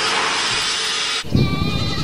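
After a brief rush of noise, a goat lets out a loud, close, wavering bleat at a small train station in England.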